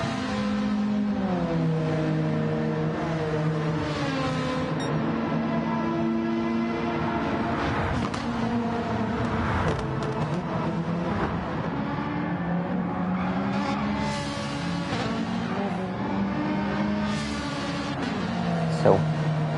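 GR4 race car engines droning in a racing video game, a continuous high-pitched whine that rises and falls as the cars shift and accelerate, with a commentator talking over it throughout.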